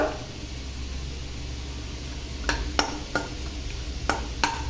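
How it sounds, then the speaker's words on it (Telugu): Cashew nuts frying in a pan for moong dal payasam, heard as a soft continuous sizzle under several sharp clinks of a spoon stirring against the pan in the second half. "జీడిపప్పు కూడా కొంచెం కలర్ వచ్చే వరకు వేయించుకోవాలండి."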